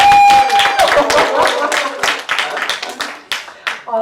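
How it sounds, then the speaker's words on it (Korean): Audience clapping at a laughter-therapy workshop for farmers, starting after a brief tone and breaking into scattered, uneven claps that thin out over a few seconds. "저를 위해서 박수를 한번."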